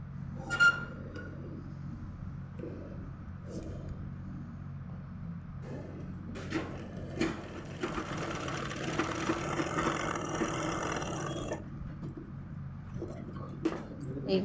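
Sewing machine running steadily while stitching a seam on a salwar, a continuous mechanical whir of several seconds with brief clicks and bumps before it starts.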